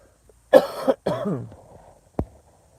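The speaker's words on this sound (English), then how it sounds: "I coughed on a live stream." A person coughs twice in quick, hoarse bursts, followed a moment later by a short sharp throat sound.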